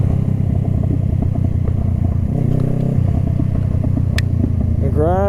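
A motorcycle rides downhill with a steady, loud engine rumble close by. The pitch shifts partway through, a sharp click sounds near the end, and a rising whine follows.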